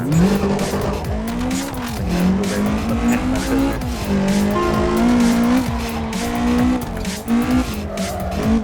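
Simulated car in CarX Drift Racing, an AE86, drifting with a continuous engine drone and a steady, loud tire squeal that wavers in pitch throughout, with no voices.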